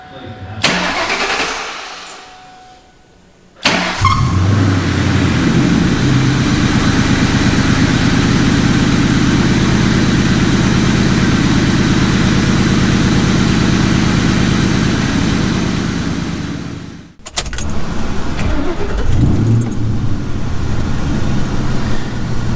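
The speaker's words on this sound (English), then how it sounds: "I'm gonna go ahead and fire the car up" A Ford 4.6 2V V8 car engine cranks and catches, then settles into a loud, steady idle rumble close by in a garage. It cuts briefly and starts up again.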